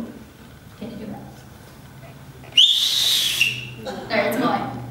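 A person whistles shrilly at a wedding reception to get attention, one sharp sustained blast followed by a shorter broken whistle, loud and close, with speech around it.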